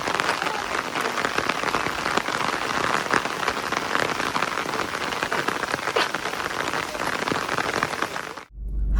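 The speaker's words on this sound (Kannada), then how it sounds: "ಮಳೆ ಬರ್ತಾ ಉಂಟು." Steady rain pours down outdoors while someone walks through it, a dense continuous hiss of drops on surfaces that stays loud and even before cutting off abruptly near the end.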